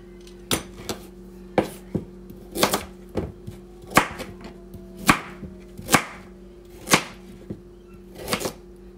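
A knife chopping carrots into pieces on a cutting board, about a dozen sharp, evenly spaced chops close up over a low steady hum, with no talking.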